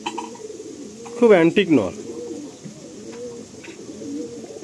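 A male Madrasi pigeon with rare eyes coos softly in a loft, a low continuous murmur close by, while someone speaks loudly over it for a moment.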